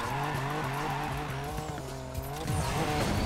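A heavy Aston Martin DB5 drifting in the racing game NFS Payback, its engine droning steadily while the tires squeal in a long, continuous skid that shifts pitch near the end as the car straightens out.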